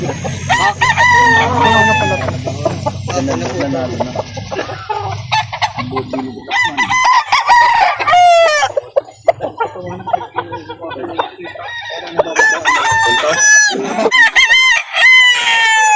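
Roosters crow again and again on a chicken breeder's farm in Calauan, Laguna, the loud calls overlapping close by amid clucking fowl, with a little talk in between.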